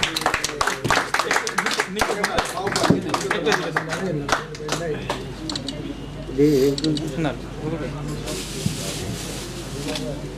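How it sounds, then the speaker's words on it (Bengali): Clapping at an annual general meeting of a traders' cooperative society: a burst of sharp, scattered claps that thins out, mixed with voices talking. "সবাই করতালি দিবেন।"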